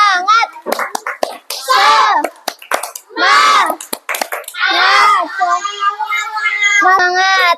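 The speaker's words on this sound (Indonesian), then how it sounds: "kita tepuk semangat dulu" Children in a classroom chant loudly in unison, with sharp rhythmic hand claps punctuating the shouts in a patterned sequence.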